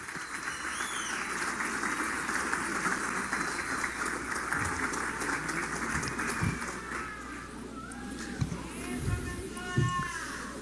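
Crowd at a physical education professionals' award ceremony in Brazil cheering, whistling and clapping, a lively mid-level roar with scattered shouts and claps throughout.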